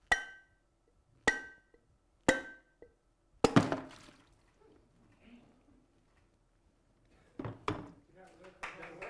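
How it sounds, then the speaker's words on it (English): Several hard knocks on an object in a lecture demonstration, struck below full force: three sharp isolated hits spaced about a second apart, then a heavier crashing impact with a wet splash and rattle, followed by scattered clatter. "So I'm going to hit it a few times, not full force, so to speak."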